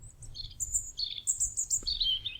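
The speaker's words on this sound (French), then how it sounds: "a entendu un chant d'oiseau qu'elle ne reconnaissait pas" A small brown bird with an orange breast sings a sequence of high, clear whistled phrases, each sliding downward, close and distinct over a faint low background rumble.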